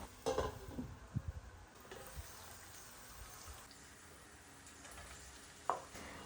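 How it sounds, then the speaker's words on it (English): Sliced onions and spices sautéing in a pot, a soft sizzle with a few stirring knocks early on, then a quiet steady frying hiss and one sharp clink near the end. "I sauteed them for a while and then added the sliced onions."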